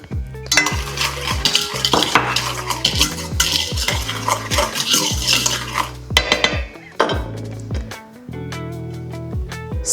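A spoon or whisk scrapes and clinks against a bowl as lemon bar mixture is stirred, with quick repeated strokes in a brisk, close, uneven rhythm.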